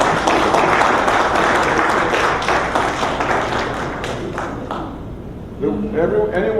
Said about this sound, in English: Let's give John a round of applause for.